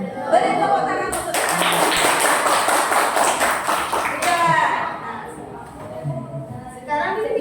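Children in a classroom break into loud, dense applause for about three seconds, with a teacher talking before and after the clapping.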